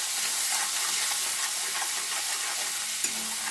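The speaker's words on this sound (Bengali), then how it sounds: "সামান্য নুন আর হলুদ দিয়ে মশলাটা আমি কষে নেব" Steady sizzling of a ginger and green chilli paste with salt and turmeric frying in a pan, a broad continuous hiss with faint stirring scrapes and no talking.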